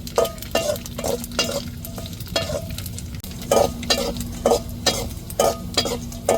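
Dried anchovies sizzle steadily in a pan as they crisp, with rhythmic stirring scrapes and clinks of a utensil against the pan repeating every half second or so, close and clear.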